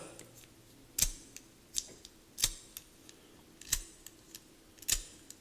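An aluminum FYRE-FLY lighter by Signal-U Mfg. Co., fitted with a new flint, sparked by its wheel five times in an even rhythm, each a sharp, close scratchy click standing alone in a quiet room.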